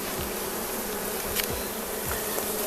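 Honey bees buzz steadily at an open hive during a summer inspection, a dense close hum with a few individual bees droning past near the microphone, with no talk.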